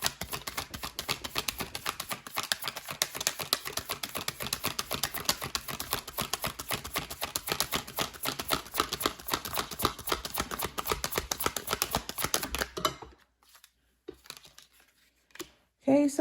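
Rapid papery riffling and flicking of tarot cards being shuffled, continuous and close for several seconds, then stopping into near silence with a few soft rustles.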